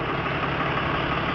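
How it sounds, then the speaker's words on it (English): A tractor engine idles close by, giving a steady, even rumble with no change in pace, and no voices are heard over it. "Oh, tractor."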